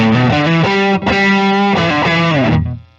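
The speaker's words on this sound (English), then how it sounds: "that just comes to life with a little bit of distortion" A distorted electric guitar, a 2021 Fender Made in Japan F-Hole Telecaster on its neck pickup, plays a few sustained, buzzy chords with a thick, saturated tone, loud and upfront, ringing out briefly at the end.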